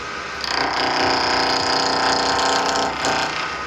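A wood lathe spins at about 1800 RPM while a tool cuts into an acrylic vegetable peeler blank, producing a loud, steady whirring hum with a grinding, scraping edge close by.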